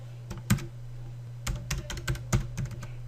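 Keys clacking on a computer keyboard while a C# class is named, in short irregular bursts of close, crisp taps over a steady low hum.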